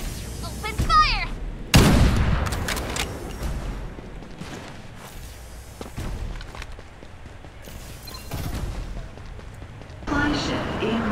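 Gunfire in the shooter game Farlight 84: a heavy, booming volley of shots and blasts erupts near the start, followed by scattered sharper reports and game announcer voice lines over the action.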